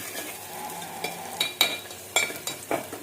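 Tomato, onion and green chilli sauté in a pan, giving a soft, steady sizzle broken by several sharp scrapes and clinks as a utensil stirs the mixture, with no voices.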